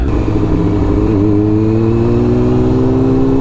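A motorcycle engine runs close and loud, holding a steady drone that swells into a rising rev over a few seconds, with no voices.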